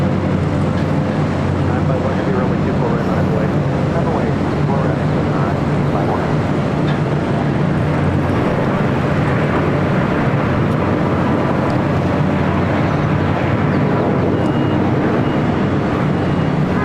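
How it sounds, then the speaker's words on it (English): Delta Air Lines Boeing 767-300ER taxiing to runway 24 right at LAX, a continuous broadband jet engine drone with low hum and wind-like rushing, steady and unbroken, no talking heard. "we do have a Delta 767 heading on over to 24 right"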